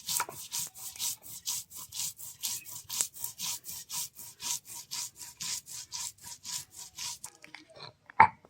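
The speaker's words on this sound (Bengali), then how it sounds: "আর এই তিল এখন আমি বেটে নিই" Sesame seeds are ground by hand in a steady rhythm of repeated scraping strokes, each stroke a short rasping rub. The strokes continue for several seconds, then give way to a few scattered knocks.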